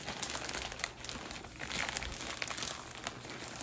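Continuous crinkling and crackling of a taped-up plastic package being pulled and torn open, close up, with brief rips throughout.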